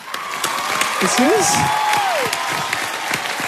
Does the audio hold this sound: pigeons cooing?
no